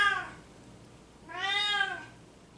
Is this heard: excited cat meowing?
yes